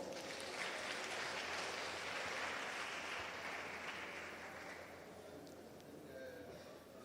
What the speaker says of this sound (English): Dr. Sunshine Miende, with a warm round of applause.